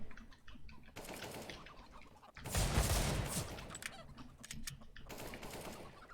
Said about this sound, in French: J'ai vu les balles partir